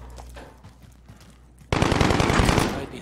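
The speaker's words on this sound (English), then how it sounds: "Gunshots? Question mark." Gunfire in the Modern Warfare video game, Infected mode: after quiet background noise, a sudden loud burst of rapid automatic fire rattles on for about a second before cutting off.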